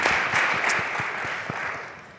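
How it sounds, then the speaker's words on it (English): Audience applause for panel members at a higher education summit: a brief burst of clapping that starts full and gradually fades over two seconds. "So a round of applause for all of our amazing panel members."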